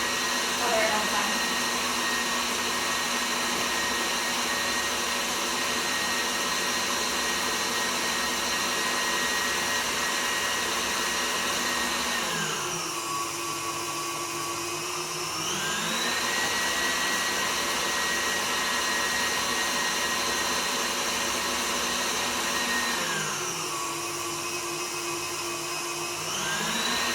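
A KitchenAid stand mixer whisks with a steady, close motor whine, dipping in speed twice before climbing back up to a higher setting.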